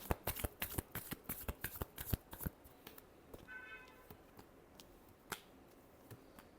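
Tarot cards are shuffled by hand in a quick run of sharp, crisp riffling clicks, fairly close and quiet, then a few scattered soft taps and flicks after the shuffle ends, with no speech.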